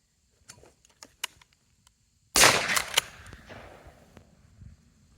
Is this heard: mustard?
no